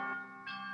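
A doorbell chimes in two tones, a ringing note followed by a higher one, fairly quiet and heard alone in an indoor room.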